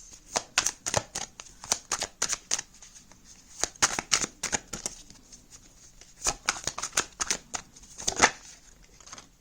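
Tarot cards being shuffled by hand, bursts of crisp riffling and slapping flicks in irregular clusters, close and fairly quiet, with no voice over them.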